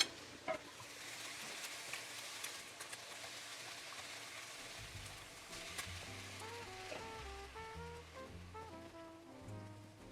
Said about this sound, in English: I'm now going to add in my ground beef, and we're going to cook our ground beef completely